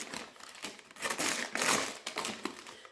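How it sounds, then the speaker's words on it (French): Gift wrapping paper torn open by hand during a book subscription box unboxing, with a few close, crackly ripping and crinkling bursts that rise and fall over three seconds, no talking. "Alors comme c'est du papier cadeau, on va le déchirer."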